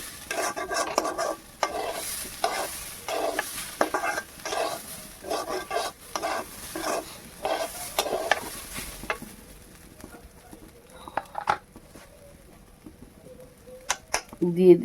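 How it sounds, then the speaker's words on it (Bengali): Spices with turmeric powder are stirred in a pan, a run of rhythmic scraping strokes over a light sizzle, then quieter moments with a few clinks near the end. "হলুদ গুঁড়ো দিয়ে আবারও নেড়ে চেড়ে নিচ্ছি"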